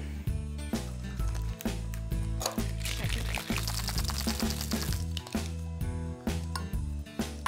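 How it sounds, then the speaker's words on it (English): A dash of water is poured into a Tang lemon iced tea with honey and lime juice, a short liquid splash over steady background music, close and fairly quiet. "Dash of water."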